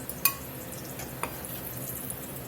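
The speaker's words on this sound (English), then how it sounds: "Let's get it out of here with a slotted spoon." A slotted spoon clinks against a skillet while scooping out cooked bacon, leaving the grease behind, with a few sharp metallic taps over a soft, steady sizzle of fat.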